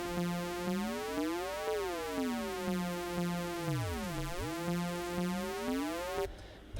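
A Serum synth tone run through a fully wet phaser effect, a rich harmonic drone whose partials sweep up and down in slow swooping arcs, holding steady and loud with a soft repeating pulse before cutting off near the end.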